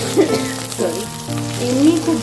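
Potatoes, onions and mixed vegetables fry in hot oil, giving a steady close sizzle with a few bursts of louder crackle and stirring, plus a background tonal hum.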